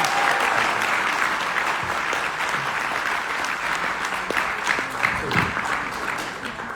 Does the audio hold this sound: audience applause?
yes